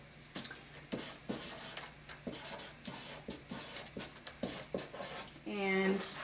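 Marker or pen writing a label on pattern paper for a dress ruffle tier, with repeated short scratchy strokes close up, followed by a brief louder rustle at the end.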